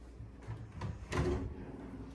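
A hotel room desk drawer sliding open or shut, a faint short scrape followed by a soft thud, quiet and close.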